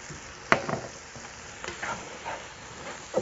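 Flour is stirred into mushrooms and celery sautéing in a pan, giving a soft, steady sizzle broken by the scrape and clack of a spoon, with one sharp knock near the start.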